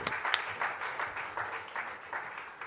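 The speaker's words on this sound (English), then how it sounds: "please give Mr. Taquain another round of applause" A conference launch audience applauds a performer, steady crowd clapping heard at a moderate distance in a hall.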